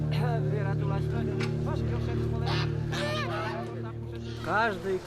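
Geese brought as sacrificial waterfowl honk near and loud in a few short bursts, with a narrator's voice over a steady low hum.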